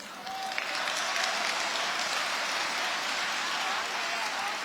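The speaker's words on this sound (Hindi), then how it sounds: "थोड़ी तालियां कम है पीछे वालों" Audience applause at a live performance of a Hindi story-poem, a dense continuous patter of many hands clapping, steady and fairly loud for the whole stretch.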